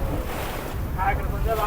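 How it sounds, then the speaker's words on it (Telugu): Sea waves wash against boats in a fishing harbour at Vizag, a steady rushing surge under heavy wind noise, loud and continuous throughout. "అలలు చాలా దీనిగా వస్తున్నాయి అన్నమాట"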